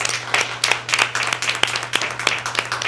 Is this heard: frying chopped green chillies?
no